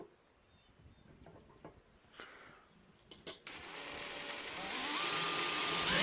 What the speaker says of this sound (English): I'm going to try a drill bit on here.